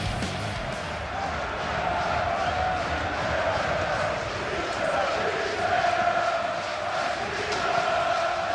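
Borussia Mönchengladbach supporters cheering at the 2011 relegation second leg, a dense, steady roar of a large crowd sustained throughout, with no distinct voices standing out.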